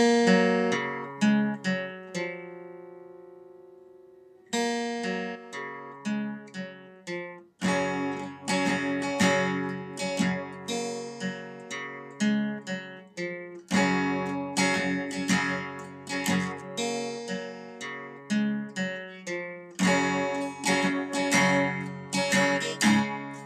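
An acoustic guitar plays the intro of a song, starting with picked single notes that ring out, then moving into steady strummed and picked chord patterns. It sounds close and clear, with no one talking.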